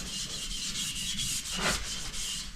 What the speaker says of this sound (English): I'm going to go over the whole frame with this gray Scotch Brite